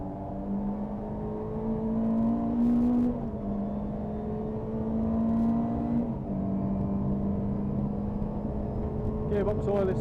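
Renault Clio race car lapping Silverstone in a tin-top race, heard from inside as a steady droning engine note that rises and falls through gear changes, with brief shifts and clunks over continuous road and wind noise.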